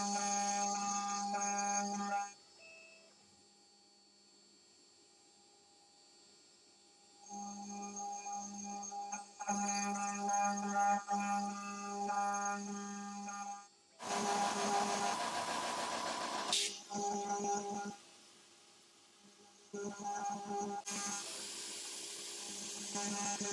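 A CNC router spinning a 1/4-inch carbide bit at 10,000 RPM while cutting pockets for a chess set gives a steady high whine, dropping to quiet in gaps, then surges into a louder, harsher cutting roar.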